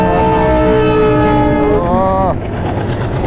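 A loud, sustained train horn blares close by over the heavy rumble of a passing train, its pitch dipping before it stops.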